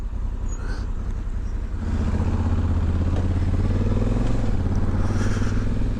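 A 2020 Honda Africa Twin Adventure Sports DCT motorcycle pulls away from a junction. Its engine rises from a steady idle into a louder, throbbing rev as the bike moves off, heard up close and alone.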